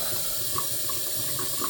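Water pours steadily through a thick, many-layered cloth face mask, making a continuous close splashing trickle with faint drip-like accents and no speech.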